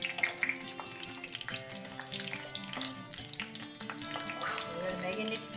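Green chillies hit hot oil already tempered with a dried red chilli, two green cardamoms and cinnamon. A loud, busy sizzle with bursts of spitting runs throughout, over faint tonal background sound.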